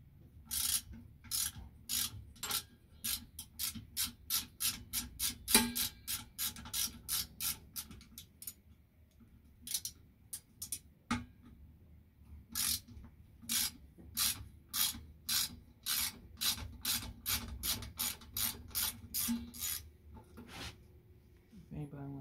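A hand ratchet clicks through repeated series of rapid sharp pawl ticks during a Razor 72v electric scooter build, close and fairly quiet, with brief pauses between strokes and soft handling noise underneath.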